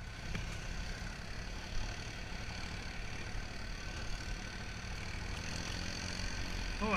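A vehicle engine labours uphill in first gear on a steep track, giving a faint, steady low drone with no breaks.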